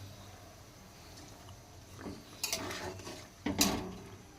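Fried bata fish pieces go into a pot of boiling curry gravy, giving two short clattering bursts with a soft splash against a quiet kitchen background.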